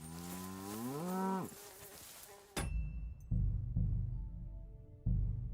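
Cow lowing in the medieval open-world game Kingdom Come: Deliverance II, one long rising moo up close, followed by muffled thuds and footsteps.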